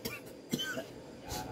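A single short, soft cough from a man nearby, faint and brief amid quiet background noise, with no other voices.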